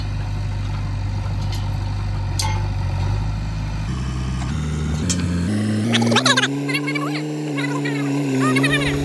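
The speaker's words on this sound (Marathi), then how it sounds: "तर बघू शकता मित्रांनो JCBने कुट्टी भरायची चालू केली आता." A JCB loader runs steadily while loading chopped silage on a farm, its engine note shifting in pitch as the machine works, loud and close throughout with no talk over it.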